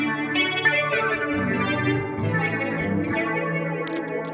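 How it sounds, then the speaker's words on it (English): An electric guitar rings through a phaser-style modulation effect with overdrive, its sweeping whoosh speeding up as the rate control is turned higher, sustained chords shimmering alone without any voice. "You can hear the modulation becomes faster as I turn the speed up."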